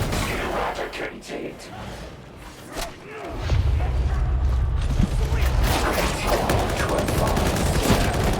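Gunfire from the video game Darktide, a Skitarii character laying down suppressive fire in a gas-filled area: a dense, continuous roar of rapid shots begins a few seconds in and keeps going, loud and close, after an opening of scattered mechanical clatter.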